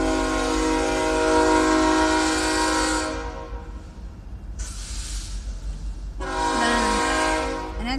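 A BNSF mixed freight train led by an ES44C4 locomotive rumbles loudly past at close range, its horn blaring in long blasts broken by a short pause.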